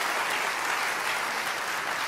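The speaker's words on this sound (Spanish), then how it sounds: "Dele fuerte ese aplauso al Señor." A church congregation applauds during a sermon, with dense, steady clapping from many hands filling the whole stretch at an even level and no voices over it.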